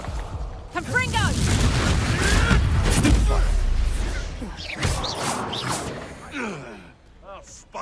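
A Confringo spell explodes in the Hogwarts Legacy video game, a loud rumbling blast with whooshing fiery bursts that swells and then fades, and vocal sounds are mixed in.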